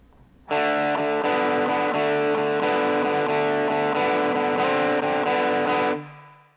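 Distorted electric guitar plays a riff once on the fourth and third strings, loud, dense chugging notes starting suddenly after a quiet lead-in and ringing out briefly at the end.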